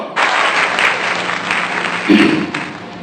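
A crowd at a Hindi poetry recital breaks into sudden, loud applause, a dense burst of clapping that carries on steadily with a brief swell near the end.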